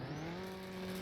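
A car's tires spin and screech through a burnout in the drag racing game No Limit Drag Racing 2.0, a loud, sustained squeal with a rising engine tone over one continuous second.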